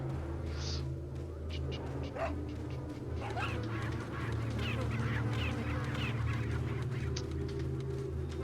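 A dog in the video game Resident Evil 4 gives a few brief barks and yelps over a steady droning game soundtrack, with no voices.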